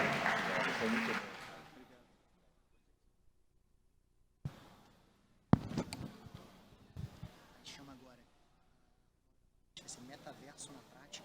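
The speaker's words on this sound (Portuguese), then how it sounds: "eu queria que uma salva de palmas aqui" Audience applause at a digital identity panel event, a brief burst of clapping that fades out within two seconds, followed by silence and then someone speaking.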